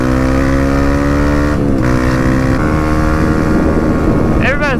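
A dirt bike engine drones loudly and steadily while riding, with heavy wind rush over the microphone and a rising rev toward the end.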